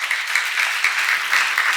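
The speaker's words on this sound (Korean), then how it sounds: "박수" A crowd claps steadily and briskly, with a dense patter of many hands and no voices.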